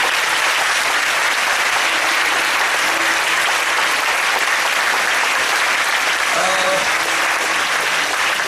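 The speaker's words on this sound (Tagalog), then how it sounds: "Palagay ko, mahina yung palakpak nito." Church congregation applause during a pastor's sermon, dense continuous clapping from many people filling the room for over eight seconds, with faint voices underneath.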